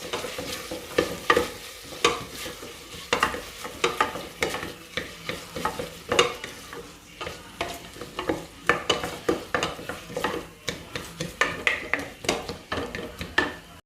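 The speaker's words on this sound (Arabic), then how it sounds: "غادي نضيف مطيشه، ونخلط" A spoon stirs tomato into a cooking pot, giving repeated scraping and clinking strokes in a steady rhythm over a soft sizzle, close and clear.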